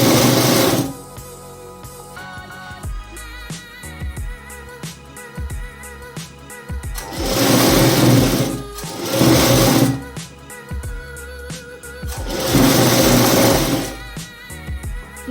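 A sewing machine stitching a blouse, with three long runs of loud, close, rapid mechanical whirring and needle clatter, separated by quieter stretches of clicks and handling, and no speech.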